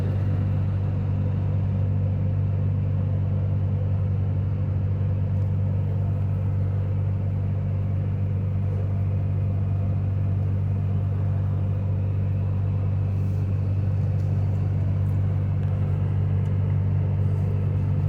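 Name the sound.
segmented freight train moving on rails in video game Rail Ramp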